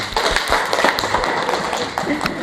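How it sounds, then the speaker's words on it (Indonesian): A class of students claps hands during a science lesson, a brief burst of brisk, close clapping with a few sharper slaps standing out. "Oke, kasih tepuk tangan."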